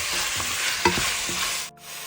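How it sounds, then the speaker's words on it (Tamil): Mutton with ginger, garlic and chillies is stirred in a hot pan for a Hyderabadi marag, giving a brief, close sizzle with a few scraping strokes of the spoon and no talking. "சேர்த்துட்டு இதை நம்ம அழகாக கிண்டி விட்டுக்கலாம்."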